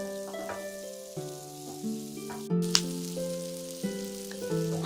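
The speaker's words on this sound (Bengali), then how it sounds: "পেঁয়াজটাকে ভালো করে ভেজে হালকা একটা গোল্ডেন কালার আনতে হবে।" Chopped onions frying in melted butter, a soft continuous sizzle heard beneath louder melodic background music that runs through the whole stretch.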